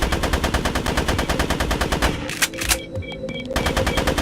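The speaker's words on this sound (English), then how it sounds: "I'll empty a few clips into them" Rapid automatic gunfire in the video game GRAV, a loud, steady stream of shots that breaks off briefly into a few scattered bursts and impacts, then resumes at full rate.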